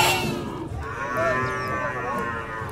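Carabao, or water buffalo, at a livestock stockyard giving a drawn-out, steady moo-like bellow with a harmonic tone, close and loud over crowd and yard noise.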